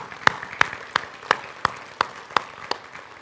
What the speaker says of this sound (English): Would y'all give them a hand clap?